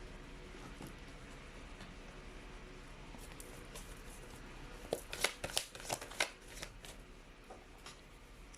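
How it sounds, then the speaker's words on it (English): Tarot cards being shuffled close by in a quiet room. A soft, steady rustle builds to a few crisp riffling snaps near the middle, then settles back down. "Cards are flying out."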